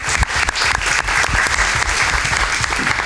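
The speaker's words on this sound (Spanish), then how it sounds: "Para hacer un aplauso para ellos" Applause from attendees at a university governing council session, a dense burst of many hands clapping steadily and fairly loud for a few seconds.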